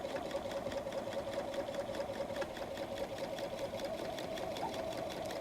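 A sewing machine runs steadily at a long stitch length, stitching across the pleated pocket of a messenger bag with a continuous rhythmic whir and a faint mechanical knock throughout.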